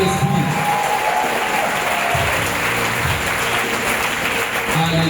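A church congregation at a charismatic Holy Spirit seminar applauds loudly and steadily, a dense wash of clapping mixed with crowd noise and scattered cheers that holds for the whole stretch.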